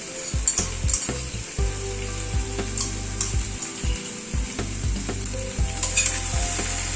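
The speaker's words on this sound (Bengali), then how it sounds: "আদাটা আর কাঁচা লঙ্কাটা দিয়ে একটুখানি কুমড়োগুলোকে ভেজে নেব।" Ginger and green chili frying with pumpkin pieces in a pan, a steady close sizzle with occasional stirring scrapes and light clinks of utensils, no talking.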